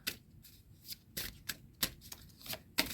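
Tarot cards are shuffled and drawn from a deck in a string of crisp, brisk card flicks and slaps, with several sharp bursts spaced irregularly across a quiet background.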